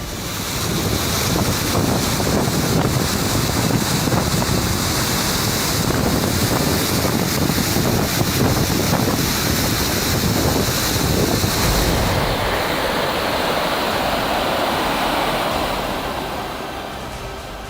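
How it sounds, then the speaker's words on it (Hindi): A steady, heavy roar of water cascading down a mountainside onto a highway in the hills, loud and continuous throughout with wind-like rushing, easing slightly near the end, no voices. "लगातार जहां तहां पहाड़ का सीना चीरकर पानी गिर रहा है"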